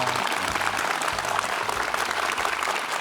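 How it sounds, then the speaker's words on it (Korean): A concert audience applauds a physics and astronomy professor at a science event, a dense, steady wash of clapping that fills the whole stretch without pause. "여러분 큰 박수 부탁드릴게요"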